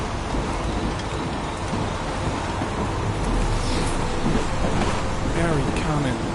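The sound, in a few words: rain in the video game Heavy Rain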